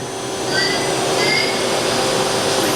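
A 2008 Doosan Puma 2000SY CNC lathe spindle spins at 2,500 RPM, giving a loud, steady machine hum with thin high whining tones rising over it, constant throughout with no talking.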